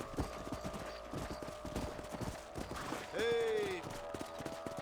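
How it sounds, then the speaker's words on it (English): Horse hooves clip-clop in a steady, rapid rhythm in Red Dead Redemption, continuing throughout at moderate volume, with a brief higher call rising over them partway through. "Let's get back on the horses"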